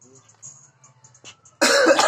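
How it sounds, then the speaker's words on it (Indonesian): A single loud cough bursts out near the end after a quiet stretch with faint background noise. "Batukmu bau."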